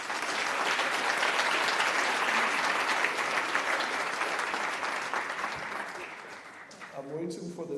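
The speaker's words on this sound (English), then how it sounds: "I would like us to give that person a round of applause" A summit audience gives a round of applause, many hands clapping in a dense, sustained burst that fades toward the end as a voice begins to speak.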